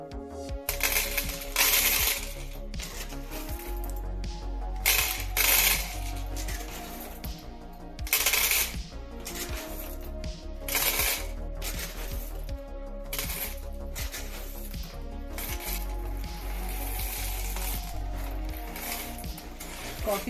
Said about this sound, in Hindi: चलिए कॉफी बीन्स डालते हैं।